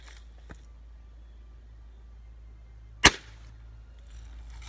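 A pump air rifle fires a single sharp, loud crack at water bottles, a sudden isolated report against a quiet outdoor background, preceded by a faint small click.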